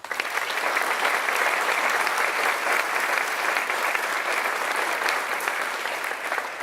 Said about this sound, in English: could we please give them a round of applause?